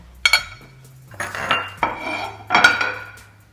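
A knife and dishes handled in a home kitchen: several sharp clinks and clatters of metal on plates, some scraping between them, close and clear with no talk.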